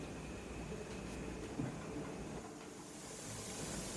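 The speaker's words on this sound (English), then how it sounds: "I'm going to let it vent this steam for 10 minutes." A pressure canner venting steam while canning green beans, a quiet, steady hiss that continues unbroken with faint clicks in the background.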